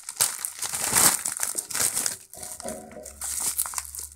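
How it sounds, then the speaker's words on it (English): Crinkling and tearing of packaging as a mailed parcel holding a Bluetooth 4.0 nRF51822 development kit is unwrapped, close and busy crackles in bursts, with a quieter rustle and a low hum toward the end. "Let's unwrap it."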